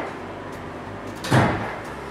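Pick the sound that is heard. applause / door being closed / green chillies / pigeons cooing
door being closed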